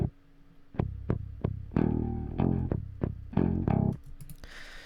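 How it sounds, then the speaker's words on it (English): A distorted single-note guitar line pitched down an octave, in the style of a metal mix, chugs in a run of heavy, throbbing low hits that start sparse and then crowd together before cutting off. "And then we pitch it down an octave to sound like this."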